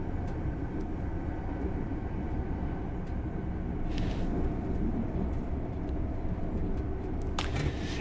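Class 395 Javelin train running in the Train Sim World game, a steady low rumble of motor and rolling wheels throughout, with brief brighter hiss bursts near the middle and end.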